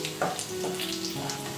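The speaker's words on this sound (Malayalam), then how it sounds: "ഇതിലേക്ക് നമുക്ക് 10 കശുവണ്ടി ഇട്ടൊന്ന് വറുത്തെടുക്കണം" Cashews frying in hot ghee in a pan for Kerala-style beef mappas, a soft continuous sizzle with light crackles and faint stirring, close by with no talk.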